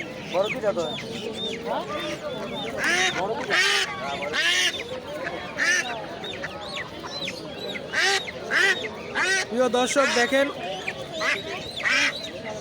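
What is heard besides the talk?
domestic ducks quacking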